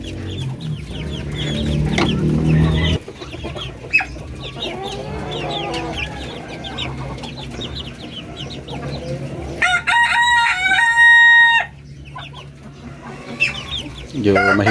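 Chickens cluck nearby in a coop holding two-month-old chicks, and a rooster crows loudly near the end, with some scattered chirps and farmyard noise around them.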